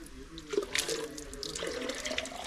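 Cold water pouring into a bottle outdoors on an early-morning hill ride, a short gurgling, splashing flow close by.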